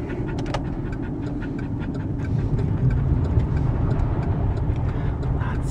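Car rolling over a gravel road, a continuous low rumble with crunchy, gritty texture and scattered small crackles, fairly close and steady throughout.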